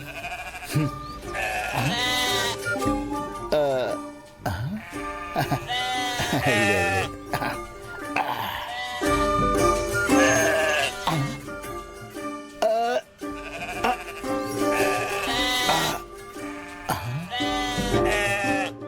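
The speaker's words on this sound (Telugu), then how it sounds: "ఇక్కడెక్కడా మేకలు గాని గొర్రెలు గాని లేవే. మరి అరుపుల సౌండ్లు ఎక్కడి నుంచి వస్తున్నాయబ్బా?" Many sheep and goats bleat over and over, loud and close, their wavering cries overlapping in bursts throughout.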